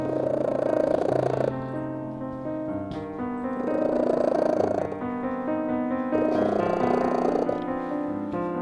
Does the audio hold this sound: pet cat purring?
yes